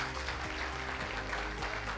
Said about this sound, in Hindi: एक बार जोरदार तालियां सौरभ के लिए